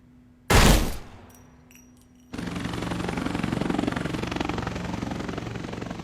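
Gunfire in a horror film: one sharp loud shot or burst, then a brief lull before a sustained heavy roar of rapid automatic fire that keeps going to the end.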